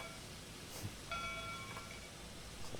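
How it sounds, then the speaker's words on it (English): Steam-powered locomotive bell in the train simulator Trainz 2022, ringing faintly with a few soft tonal strikes over a hissy background, distant and quiet. "it's also a steam-powered bell"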